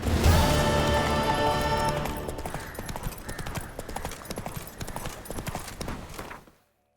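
Galloping horse hooves in The Witcher 3 video game, a steady rapid clip-clop that starts loud under a dense layer of game music and sound, then continues more thinly for several seconds before cutting off.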